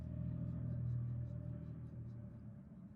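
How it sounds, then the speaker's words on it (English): Street traffic drifts through a window as a faint, continuous low rumble of passing vehicles, swelling slightly and then easing off. "Forgive the traffic noise."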